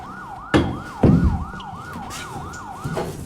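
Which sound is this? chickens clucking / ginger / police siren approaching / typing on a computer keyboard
police siren approaching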